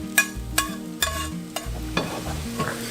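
Toasted garlic is scraped into a bean pot, with sharp repeated spoon-on-metal clacks about every half second over a low background hum, close and fairly loud, no talk.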